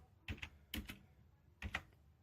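Keystrokes on a computer keyboard while entering HTML markup, heard as three short bursts of two or three close clicks each, faint and near, with no talk over them.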